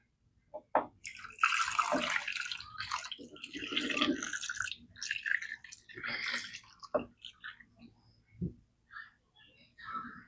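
Broth is poured around the sides of a crockpot holding chicken, with uneven splashing and trickling that starts and stops in short bursts while a person talks.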